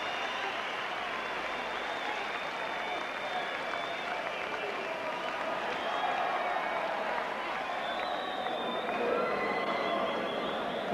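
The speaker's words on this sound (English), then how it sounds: "Ladies and gentlemen, a round of applause, please, for this young man who came here to challenge tonight." Applause and cheering from a boxing arena crowd rise for boxer Billy Hardy, with steady dense clapping that holds throughout at moderate distance, and a ring announcer's amplified voice carrying over it.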